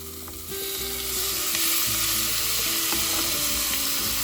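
Onion, garlic and tomato sautéing in a pan for beef caldereta give a loud, continuous sizzle with scraping stirs, and the sizzle grows stronger after a brief quieter start.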